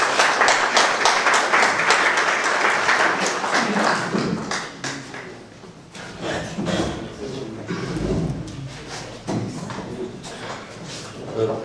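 An audience at a poetry festival in Panciu, Romania, applauds the first-prize poetry winner with dense, sustained clapping that tapers off. A speaker's voice comes in over the fading applause.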